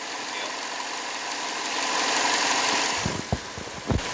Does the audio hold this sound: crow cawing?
no